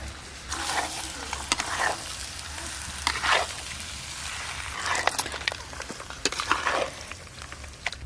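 Mutton with ground spices and sour yogurt fries in a pan, a soft continuous sizzle broken by scraping stirs and clinks of a spoon, heard close and moderately quiet.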